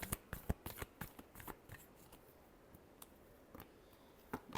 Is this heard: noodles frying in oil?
no